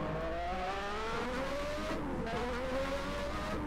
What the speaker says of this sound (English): with that Lamborghini engine, but difficult car to drive